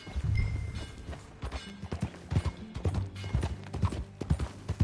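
Horse hooves clip-clop steadily at a walking pace in Red Dead Redemption 2, a rhythmic series of close, moderately loud thuds continuing across the whole stretch with no talk over them.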